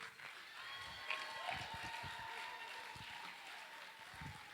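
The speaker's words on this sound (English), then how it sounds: "big round of applause" Wedding guests at a reception applaud the couple during the speeches and toasts: a steady, fairly faint wash of clapping with a brief louder swell, heard over a background of music.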